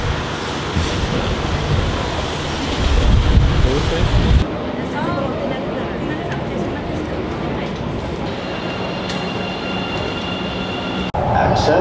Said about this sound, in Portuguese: es un metro